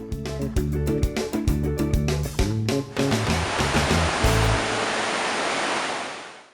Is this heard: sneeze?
no